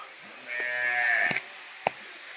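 A young female buffalo calf gives one drawn-out, nasal moo at close range on a village farm in Itiya, followed by a couple of sharp knocks nearby.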